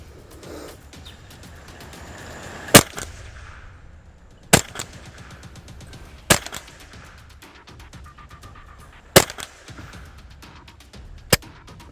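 Rifle fired from a seated position at a small 3-inch steel plate target on a shooting range, five sharp loud shots spaced a couple of seconds apart over a low background murmur.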